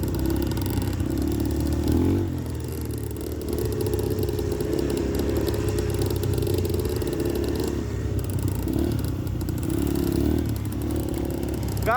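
A motorcycle runs on a mountain dirt track on Gunung Guntur, a steady engine drone with occasional revs and some clatter, heard at moderate distance throughout.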